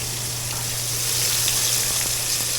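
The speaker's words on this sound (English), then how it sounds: "Stuff frying some chicken breasts." Chicken breasts fry in a pan with a steady, dense sizzle that fills the whole stretch. A low constant hum sits underneath, and there is no talking.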